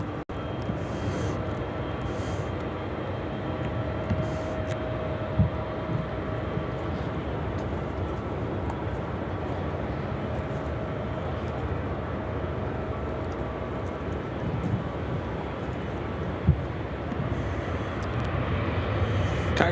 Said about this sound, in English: It's a 777 freighter.